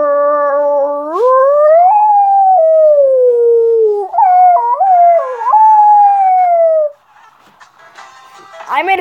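A person's voice imitates a coyote howl, with long rising and falling wails in two drawn-out runs, close and loud, before it drops to quiet background noise with faint movement at the end.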